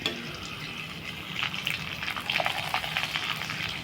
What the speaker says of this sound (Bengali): তেলটা গরম হয়ে গেছে, এবার পাঁপড়গুলো ভেজে নেব।